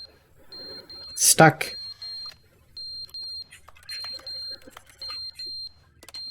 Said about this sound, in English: I don't want to hear that beeping.